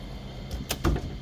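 A drawer slides open on a metal tool box in a workshop, a brief scraping rumble ending in a soft clunk, close and alone without any talking.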